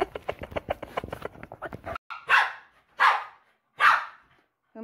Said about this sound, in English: my dog's freaking out because I have a fidget spinner